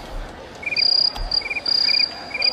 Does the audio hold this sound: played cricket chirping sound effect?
yes